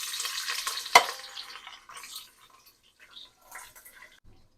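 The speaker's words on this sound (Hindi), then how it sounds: "अभी इसे मैं ब्राउन करूँगी प्याज को।" A large sliced onion being stirred as it browns in a pan for nihari, soft sizzling and frying with a sharp clink of a utensil near the start, the crackle fading to quieter stirring.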